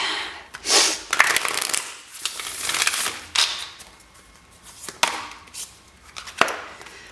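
Tarot cards being shuffled in several quick riffling bursts, crisp and close, with short pauses and soft taps between them.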